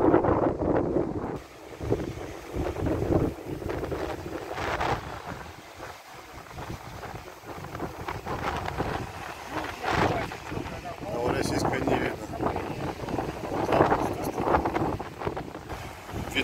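Strong wind buffets the microphone at a Novorossiysk seaside, with surf and waves crashing steadily throughout under a constant loud roar, as a rainstorm approaches; a voice speaks at times.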